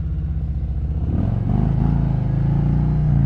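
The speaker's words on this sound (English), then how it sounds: "This exhaust sounds so good." Bagger motorcycle exhaust pipes rumble up close from the rider's seat with a deep, throbbing low note, swelling louder and revving partway through as the bike accelerates under a bridge tunnel.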